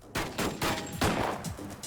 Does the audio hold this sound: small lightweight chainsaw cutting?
no